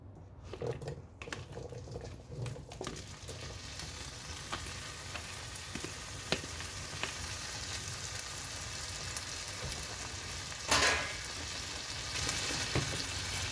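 Eggs fry on a kitchen griddle for a homemade breakfast, giving a steady, close sizzle with a few scattered clicks and a brief louder burst of crackle near the end.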